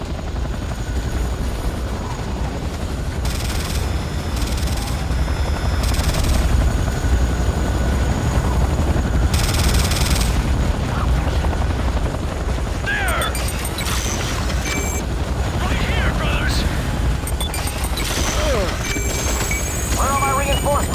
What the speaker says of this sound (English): Warning, enemy aircraft detected.